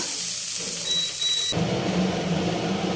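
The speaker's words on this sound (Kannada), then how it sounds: "ಅದು ಕಾದಿದೆಯಾ ಅಂತ ಸ್ವಲ್ಪ ನೀರು ಹಾಕ್ಕೊಂಡು" Water sprinkled onto a hot, oiled tava for ragi rotti bursts into a sudden loud hiss midway, then holds a steady, close sizzle.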